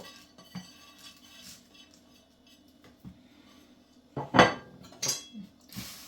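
Peeled chickpeas tumbling into a pan, giving a few clinks and rattles of metal against metal, with a louder clatter near the end, heard up close with no talking.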